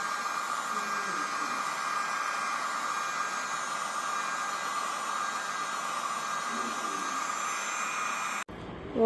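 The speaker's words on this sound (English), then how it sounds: "we'll just keep waving the heat gun on it" Heat gun blowing hot air onto a service truck body panel, a steady close hiss and whir of airflow holding constant before cutting off abruptly at the end.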